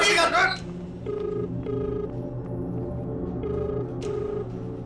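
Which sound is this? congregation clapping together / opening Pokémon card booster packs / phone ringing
phone ringing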